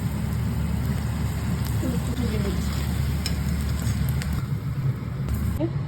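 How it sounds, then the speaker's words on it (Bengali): Marinated cabbage pieces coated in besan and sugar fry in hot oil with a steady, dense sizzle throughout, joined by occasional light clinks and a faint low hum in the background. "তেল হয়ে গেছে, এবার এগুলো ভেজে নেব।"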